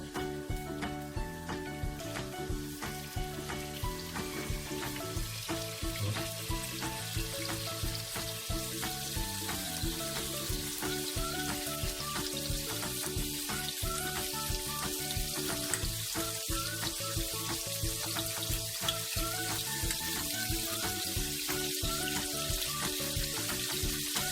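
Squid sears in a hot pan, cooked in a large batch served with Camargue rice, making a constant soft sizzle with faint crackles and scraping that runs throughout at a low, even level.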